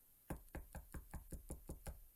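Knocking on a door, eight firm, evenly spaced raps in a quick steady rhythm, close and distinct against a quiet background.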